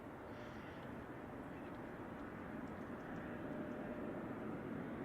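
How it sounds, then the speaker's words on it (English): Faint, distant jet roar of an ITA Airbus A330-900 arriving at San Francisco Airport, a steady broadband rumble that swells slightly as it goes on. "our next arrival is ITA, coming in from Rome. It's an Airbus A330-900."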